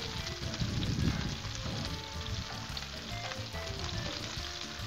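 Shrimp sizzle on a hot Blackstone griddle, a loud, dense, continuous crackle that swells briefly near the start and then holds steady, heard close up with no talking.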